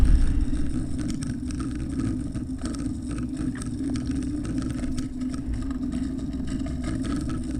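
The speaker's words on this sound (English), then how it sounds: "I'm hitting the brake because I don't want to pick up too much speed" Kick scooter gliding over dirt and gravel while the rider stands on the brake, a steady low rumble of wheels on rough ground with scattered crunches and rattles, close and continuous with wind noise.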